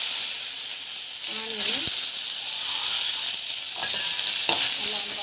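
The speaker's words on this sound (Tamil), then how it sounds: "ஆனியன் நல்லா வந்து வதக்கிடுவோம்." Onions sautéing in a hot pan with cumin and chillies, a constant bright sizzle and hiss throughout, broken by a few scraping stirs, with a voice speaking faintly underneath.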